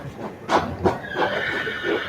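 A horse neighs at a horsemanship training session, two bright whinnies close by followed by softer calls.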